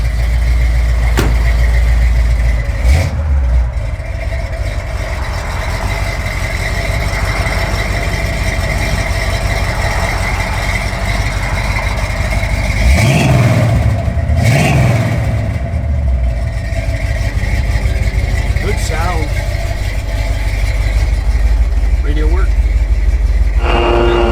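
The V8 engine of a 1966 Pontiac GTO idles loudly and steadily up close, with a couple of brief revs near the middle. A voice talks over the rumble.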